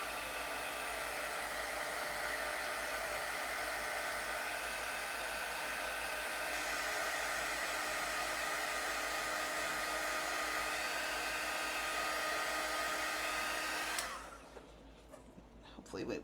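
A hair dryer runs with a loud, steady close-up roar to dry paint on thrifted Christmas decor, then cuts off near the end and leaves quiet room sound.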